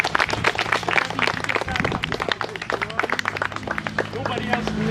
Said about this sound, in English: I would like us all to give them, the founders, a little round of applause.